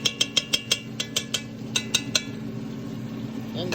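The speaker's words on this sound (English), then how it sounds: "Keep stirring. This is one of those things you got to keep stirring and scraping the bottom." A spoon knocks and scrapes steadily against the bottom of a pot of jambalaya cooking over medium-high heat, sounding as about a dozen sharp, evenly spaced metallic clinks close up that give way to softer scraping.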